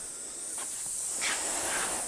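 Steady hissing spray paint coating Toyota Supra car doors, continuous and close with slight swells in intensity, no talking.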